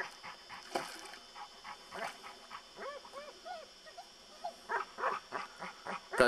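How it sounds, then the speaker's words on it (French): A female dog whimpers in thin, rising whines and then gives a run of short yips and barks, close by and fairly quiet against a faint background hum. "c'est qu'elle n'est pas stressante ta chienne"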